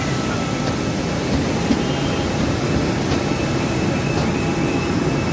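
A large airplane engine with a big fan roars steadily nearby, a loud continuous broadband rumble and whine that holds even throughout, no voices.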